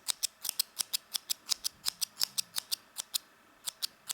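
Scissors snip shiny yarn in a quick run of crisp, close cuts, about twenty sharp clicks in an uneven rhythm with short pauses, heard alone.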